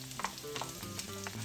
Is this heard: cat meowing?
no